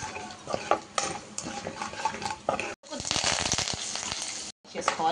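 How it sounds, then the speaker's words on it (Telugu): Dried red chilies and garlic fry in hot oil in a pan for a green chili onion chutney, sizzling loudly and close while a utensil stirs and scrapes, with two short dropouts. "ఎండుమిర్చి, వెల్లిపాయలు బాగా గోల్డెన్ బ్రౌన్ వచ్చే వరకు ఫ్రై చేసుకోవాలి"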